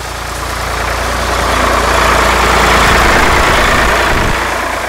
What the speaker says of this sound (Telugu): అదొక చెరుకు ట్రాక్టర్ సార్ క్రాస్ అయింది.